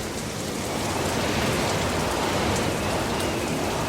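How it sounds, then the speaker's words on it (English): Heavy rain pours down in a dense, steady hiss during a strong storm, loud and continuous, with no voices. "The sand blew and blew, the wind got stronger and stronger, and the rain got heavier and heavier."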